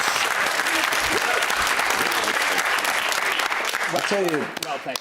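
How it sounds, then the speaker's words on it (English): A studio audience applauds the York team at a quiz contest, a dense, loud burst of clapping that holds steady before thinning out near the end, with a few voices and whoops rising over it. "Can we have a round of applause for the York team?"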